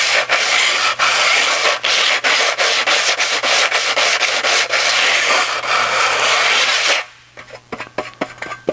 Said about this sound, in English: we're going to just clean them up with the sandpaper here